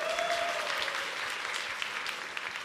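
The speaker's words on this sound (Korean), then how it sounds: "김대엽 선수에게 다시 한번 큰 박수 부탁드립니다" Audience clapping at a StarCraft II esports league venue for player Kim Dae-yeop, steady and fairly full, with a faint tonal whine passing early on.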